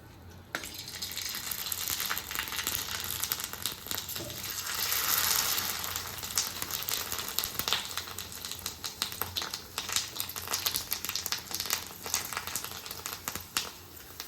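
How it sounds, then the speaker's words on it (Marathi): Sago papads fry in hot oil with a dense, continuous crackling sizzle that swells and fades, close and fairly loud, with rapid popping throughout and no talk. "मी इथे सहा पापड घेतलेले आहेत आता आपण फ्राय करूयात"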